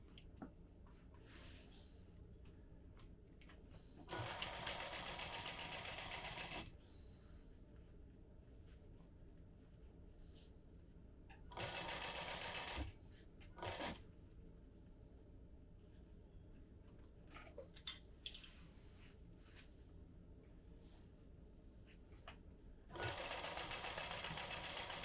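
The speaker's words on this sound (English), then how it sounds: "You are going to just sew this into place." Sewing machine stitching a modified Trailblazer bag, running in several separate bursts of steady whirring of a few seconds each, with quiet handling noise in the pauses between runs.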